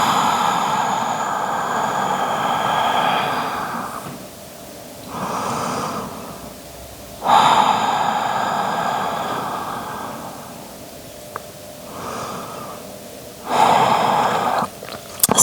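Slow, deep breathing during a yoga power flow, with long broad inhales and exhales rising and falling in steady waves, close and fairly loud, with no talking.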